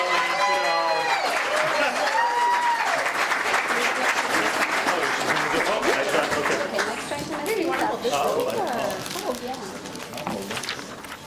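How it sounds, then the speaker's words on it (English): A pageant crowd applauding for a contestant in West Springfield, a dense, steady wash of clapping that fills the whole stretch, with chatter and a few shouts mixed in before it thins slightly near the end. "Ladies and gentlemen, nice round of applause for Gabrielle"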